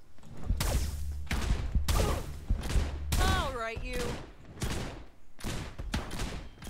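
Rapid bursts of gunfire in the video game FAULT, repeated sharp volleys close up, with a brief spoken line and game voice effects mixed in.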